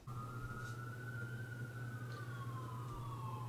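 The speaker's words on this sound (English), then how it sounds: "You might be hearing police sirens right now" A police siren wails at a distance, its tone sliding slowly up and down over a steady low engine hum, with no one speaking.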